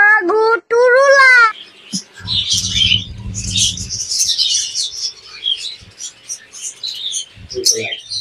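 Budgerigars at a dealer's bird setup chatter in rapid, high chirps that rise and fall over several seconds, with a brief voice-like sound at the start and low thumps in the middle.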